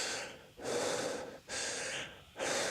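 Rhythmic breathing exercise: three long, forceful breaths separated by brief pauses, close and clear, with no speech.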